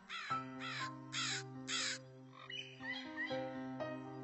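Crow cawing four times in a steady rhythm, loud and close, with a deep drone and other bird or frog calls in the background; no one talks.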